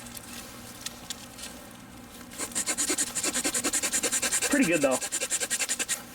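The small, thin saw of a Leatherman Signal multi-tool cuts through a little stick, fast rhythmic rasping strokes close up, starting after a quiet pause, with brief talk over it.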